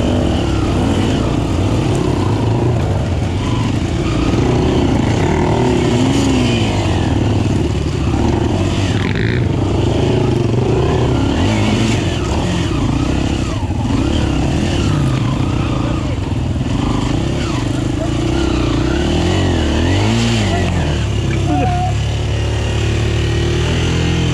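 A Minsk X250 motorcycle races along a dirt track, its engine loud and close, revving and falling repeatedly as it accelerates and backs off through the run.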